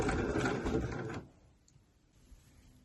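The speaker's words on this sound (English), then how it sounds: "I'm just going to go round, zigzagging all the way around that hem" A sewing machine runs a zigzag stitch around a T-shirt hem, a brief dense mechanical whir that stops after about a second, leaving quiet room tone.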